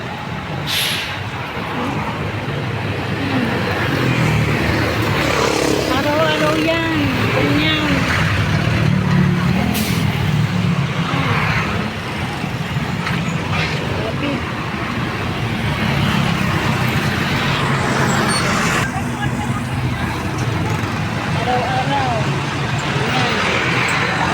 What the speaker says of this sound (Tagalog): tingnan nyo ang traffic ito yan sa Balagtas bayan ng Balagtas tingnan nyo ang traffic